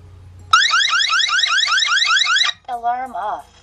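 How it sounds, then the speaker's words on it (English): A eufyCam wireless security camera's alarm siren blares loudly in rapid repeating upward sweeps for about two seconds, then cuts off as a voice speaks. "So the alarm is actually really, really loud"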